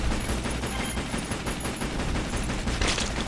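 Rapid pistol fire in the top-down game Zombie Shooter, a dense, continuous volley of shots with game sound effects layered throughout.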